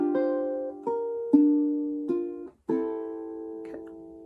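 A ukulele plays the opening measure of a song as fingerstyle jazz chord melody, with five or six plucked chords pinched on all four strings, each ringing out clearly and decaying, close and alone.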